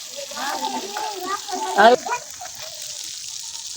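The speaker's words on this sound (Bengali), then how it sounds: "আমি হালকা ভাবে মাছটা ভেজে রাখবো" Stingray fish fries in a pan with a soft, steady sizzle and hiss, kept low beneath someone talking nearby.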